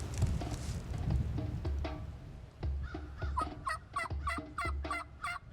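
Wild turkeys gobble in answer to calling, heard outdoors as several loud rattling gobbles, the last ones in a fast rhythmic burst, with no talk.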